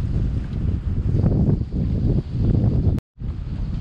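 Strong wind buffets the microphone on a beach, a steady, loud, low roar that gusts unevenly and cuts out briefly near the end.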